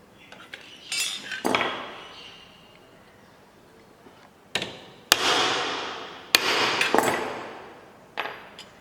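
A hammer striking a punch through sheet metal over a wooden piece, sharp metallic clanks in irregular bursts with ringing tails, close and loud, with quiet pauses between blows.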